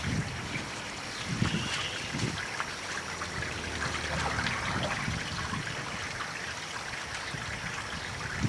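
Water draining and trickling out of a pool's DE filter during backwashing after a seasonal opening, a steady gurgling rush that holds even and continuous throughout with no talking.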